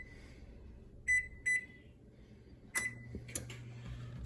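An oven control panel beeps while it is set to preheat to 400 degrees, giving a few short, clear electronic tones in pairs over a quiet kitchen background hum.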